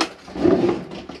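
A cutlery drawer in a motorhome slides open with a short wooden rumble and rub, close by and brief.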